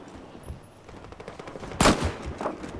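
Gunfire in the first-person shooter Battlefield Hardline, a few scattered shots followed by a loud close burst of rapid fire and fainter echoing shots.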